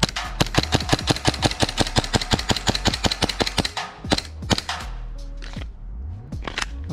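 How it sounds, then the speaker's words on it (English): A Glock pistol fires a rapid string of sharp, loud shots in steady rhythm until the magazine runs empty, followed by a few scattered clicks and handling noises. "I actually managed to empty the magazine."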